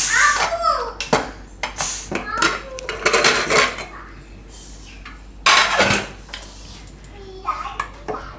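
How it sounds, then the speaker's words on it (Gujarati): A pressure cooker holding boiled potatoes is opened in a home kitchen, bringing metallic clanks and scrapes of the lid and utensils, close and intermittent, while someone talks in the background. "બટેટા આપણે હવે ખોલીને કુકર જોઈ લેવું."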